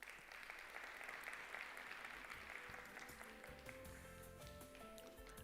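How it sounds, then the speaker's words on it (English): Convention audience at a funeral industry gathering clapping for a chairperson, a dense crowd applause that continues as a low musical tone enters underneath partway through. "Please give him a round of applause."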